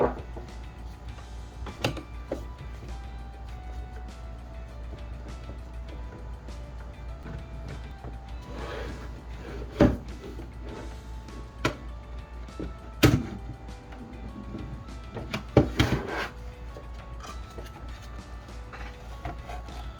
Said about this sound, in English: Alright, let's crack her open and see what we got.